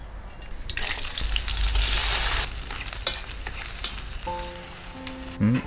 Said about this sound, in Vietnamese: bom sẽ mang mấy con hầu này đi xào trước